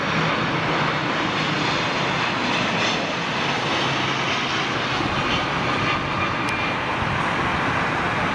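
A 400-series jet airliner at London Heathrow gives a loud, steady engine roar that holds broadband and unbroken throughout, close by with no voices.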